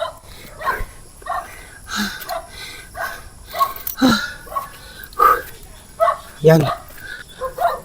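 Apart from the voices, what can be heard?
dog barking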